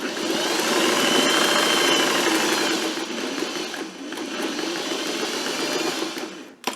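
A sewing machine runs steadily, stitching the pointed notch of a homemade shirt, its loud continuous whir easing slightly midway before stopping abruptly at the end.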